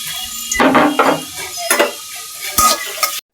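Bursts of sizzling and stirring as spice paste and green chillies fry in hot oil for Bengali rui fish curry, with a few sharp utensil scrapes and clinks, close up and fairly loud.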